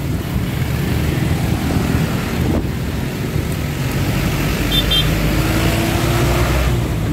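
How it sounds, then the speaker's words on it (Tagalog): Road traffic of many cars on a Monday morning in San Mateo, Bulacan, heard as a steady, loud rushing roar mixed with wind buffeting, continuous and without voices. "Ang dami na sasakyan."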